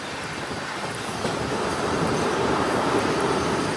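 An extra-long Indian goods train loaded with coal and pulled by a double locomotive thunders past, its broad steady roar rising and mixed with wind buffeting the microphone.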